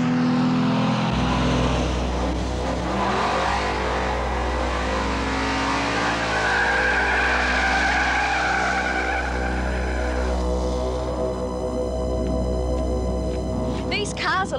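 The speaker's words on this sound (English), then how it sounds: "the New South Wales Hotrod Association's having limited drag racing days" Hotrod cars at a New South Wales Hotrod Association drag racing day at Oran Park Raceway produce a loud, sustained engine roar that drones and shifts in pitch as motors rev, with mechanical rattles toward the end.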